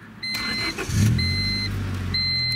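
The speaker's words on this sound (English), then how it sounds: "I'm just gonna go ahead and start the car up for you guys" A 1999 Honda Civic with a new battery and alternator is started with the key, a beeping chime over a short cranking whir before the engine catches and settles into a steady close idle.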